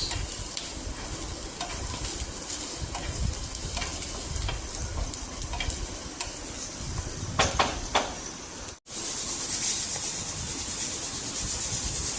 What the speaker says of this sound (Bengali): শুকনো মরিচ ভাজতেছি